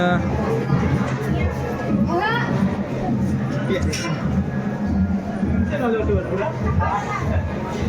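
A dense crowd murmurs at the Ekvira temple in Karla, a steady close babble of many voices with children's calls rising now and then.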